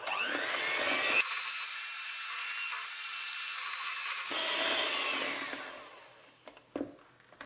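Electric mixer whisking coffee buttercream, a loud close steady whine that runs for several seconds, shifts in tone midway, then winds down and stops.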